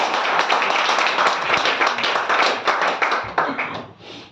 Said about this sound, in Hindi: एक बार ताली बजा सकते हैं कि सर?